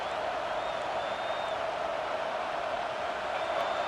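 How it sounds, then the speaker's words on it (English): A dense, steady roar from a large stadium crowd at a college football game rises as the defense blitzes, forming an unbroken wash of noise with no clear individual voices. "Listen to this crowd just shaking the girders of this place, trying to help their defense."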